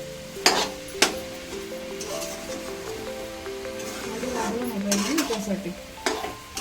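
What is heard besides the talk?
stirring coconut and sugar mixture in a pan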